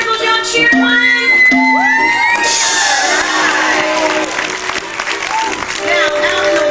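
A crowd at Six Flags Great Adventure doing a triple jump cheer, with loud shouts, whoops and applause rising together in a burst, and voices speaking over it.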